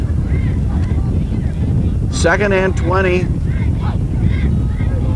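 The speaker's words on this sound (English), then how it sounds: "it's very windy where we are." Steady wind buffets the microphone at an outdoor junior varsity high school football game, a constant low rumble throughout while a commentator talks over it.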